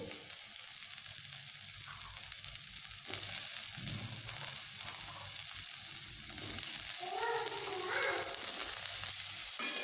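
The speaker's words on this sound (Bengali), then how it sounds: "এবার আলু ও করলাকে আমি একসঙ্গে এইভাবে ভেজে নেব।" Potato pieces and bitter gourd fry together in a pan, a steady close sizzle that runs throughout, swelling a little louder toward the end with soft bubbling crackle.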